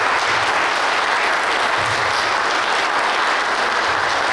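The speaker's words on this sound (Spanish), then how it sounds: "Vamos a darle un fuerte aplauso a Jimena." Steady, dense applause fills a quinceañera celebration, a crowd of guests clapping continuously and evenly at moderate loudness for several seconds with no talk over it.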